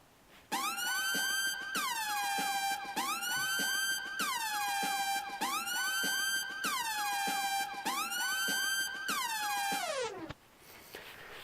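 A loud wailing siren sample from Kill Bill cycles up and down in repeated sweeps, about five rises and falls, then cuts off abruptly near the end.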